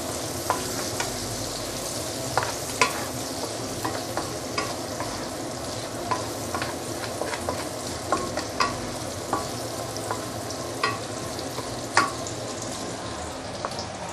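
Potato and dried bean curd being stir-fried in a pan, a constant sizzle broken by frequent sharp scrapes and clacks of the spatula in an irregular rhythm, close and fairly loud with no speech.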